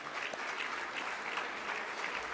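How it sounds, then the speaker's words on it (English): Steady clapping from a large crowd at an awards night fills the space, dense and continuous, with no voices over it. "Give them a big round of applause, everybody."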